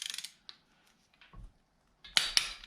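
Wrench ratcheting and clicking while torquing cylinder head bolts on 243 heads of a turbo Camaro, a few sharp metallic clicks and scrapes with pauses, ending in two louder, close snaps.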